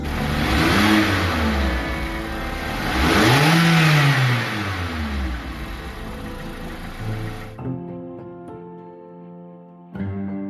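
A car engine revs loudly twice with rising and falling sweeps, then settles. A tonal hum and faint background sounds follow after it stops.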